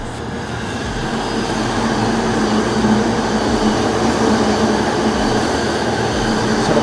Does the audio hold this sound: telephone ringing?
no